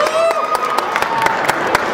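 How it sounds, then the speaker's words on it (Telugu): An audience at a 2013 Diwali celebration applauds, a dense burst of clapping with sharp individual claps standing out over crowd noise and voices. "so round of applause for mister Ajay Kodali"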